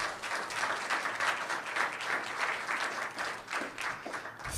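An audience at a school board meeting gives steady applause for a student award winner, a dense, even patter of many hands clapping continuously at moderate volume in an indoor room.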